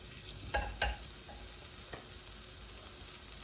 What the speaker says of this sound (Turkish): Tereyağım erisin.